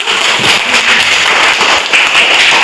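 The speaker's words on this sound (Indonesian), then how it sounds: "kita kasih aplaus kelompok 1" A classroom group claps for a student team after its presentation, producing a dense, continuous patter of many hands close by that lasts the whole short stretch.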